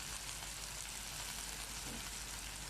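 String beans for adobong sitaw sizzle and fry in a pan as soy sauce goes in, a dense, steady crackling hiss that stays fairly quiet throughout with no voices.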